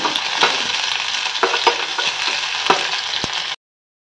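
Garlic sizzling in hot oil in a pan while cooking an Odia ambila (sour curry), a steady bright frying hiss with occasional pops and stirring clatter, close and fairly loud throughout.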